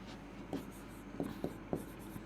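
A red pen writes on paper during a bank-exam reasoning class, giving a few short close scratchy strokes in an uneven rhythm over a low steady background hum, with no talking.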